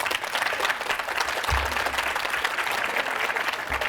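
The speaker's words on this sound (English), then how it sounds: "Give yourselves a round of applause." Graduates at a 2023 achievement center graduation ceremony give themselves a sustained round of applause, dense steady clapping from a large crowd filling the whole stretch.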